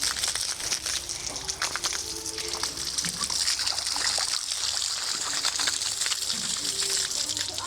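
Water runs steadily from a tap or hose at a farm outside Damascus, a continuous hissing splash with small trickling fluctuations throughout, fairly close and with no voices.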